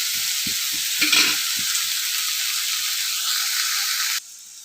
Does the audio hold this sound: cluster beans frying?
yes